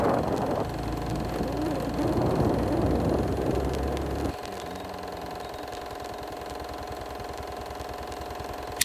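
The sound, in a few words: motorcycle taxi (ojek) engine while riding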